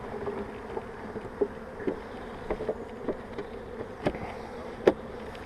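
Honeybees buzz in an open hive during a spring inspection, a steady close drone with small clicks and knocks from frames and handling, with no talking.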